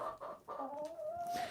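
A hen clucks close by in a short burst, with a drawn-out rising call after a few quick clucks.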